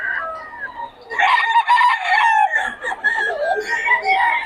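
Roosters crow loudly and close among clucking chickens and pullets at a poultry seller's, with drawn-out calls overlapping one another.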